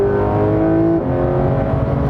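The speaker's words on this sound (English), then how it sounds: "the engine in this does make up for its comparative lack of firepower with a sublime soundtrack" Porsche 991.2 911 GT3 RS engine revving loud and close, a steady high-pitched wail that dips briefly at the midpoint before climbing again, with no talk.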